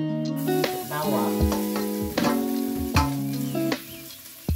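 Garlic dropped into hot ghee, sizzling and spattering in short bursts with clinks of a utensil against the pan, close by, under faint background sound.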